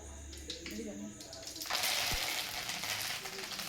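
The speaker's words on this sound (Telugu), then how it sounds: "నూనె వేగింది, జీలకర్ర ఆవాలు అయితే వేస్తున్నా. కరివేపాకు వేసుకోవాలి." Cumin, mustard seeds and curry leaves dropped into hot oil, with quiet clinks and a voice at first, then a sudden loud burst of crackling sizzle that holds steady to the end.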